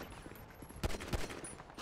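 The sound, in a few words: gunfire in GTA NoPixel roleplay video game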